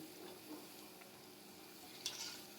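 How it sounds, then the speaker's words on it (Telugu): Eggplant bajji fritters frying in oil over a medium flame, a faint steady sizzle close by with a brief utensil clink near the end. "ఈ బజ్జీలని బాగా ఫ్రై అవ్వనివ్వాలండి."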